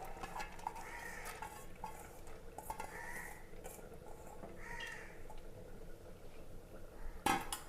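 Washed lentils tipped into a pressure cooker in a home kitchen, heard as faint rattles and scrapes of a spoon against metal, with a sharper clink near the end.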